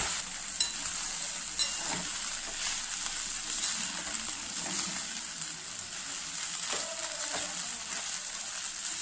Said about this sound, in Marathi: व्यवस्थित हलवून घेऊया.